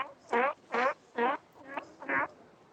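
A sea lion at the Monterey Coast Guard Pier calls out in five loud, raspy, honking barks, each about a third of a second long, spaced evenly with short pauses between them.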